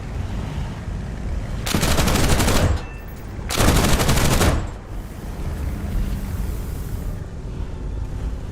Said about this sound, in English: They've changed the gun sounds.